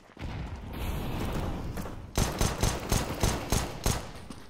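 Counter-Strike: Global Offensive gunfire during a competitive bomb round: a steady wash of game noise, then from the halfway point a run of about seven loud, evenly spaced shots close by.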